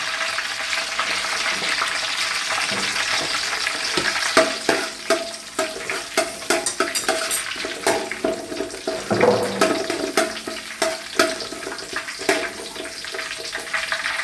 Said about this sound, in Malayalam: സവാള ആദ്യം ഇടാം.